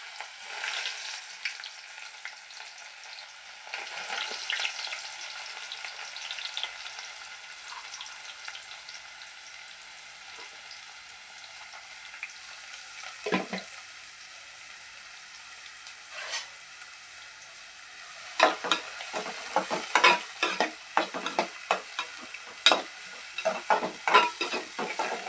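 Sliced onions frying in well-heated oil, a soft continuous sizzle with occasional stirring, growing into a denser burst of crackling and spatter toward the end.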